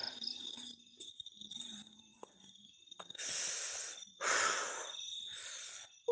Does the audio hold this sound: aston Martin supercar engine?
no